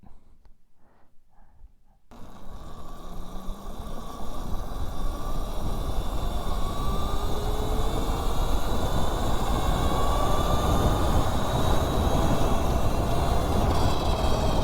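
A modified mini bike engine accelerates hard after about two seconds of near quiet, its loud, raspy roar climbing steadily in pitch and holding strong to the end.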